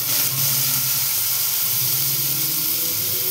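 Finely chopped onion hitting hot oil tempered with nigella seeds, a loud, close, continuous hissing sizzle that holds steady for a few seconds.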